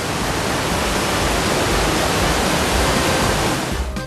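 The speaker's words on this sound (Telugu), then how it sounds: "వర్షం కురిసినప్పుడు వంకలు తిరుగుతూ ప్రవహించే ఆ నీరు చూడ్డానికి రెండు కళ్ళు సరిపోవు" The Bogatha waterfall, swollen after heavy rain, rushes as a dense, constant roar of falling water, loud and unbroken throughout.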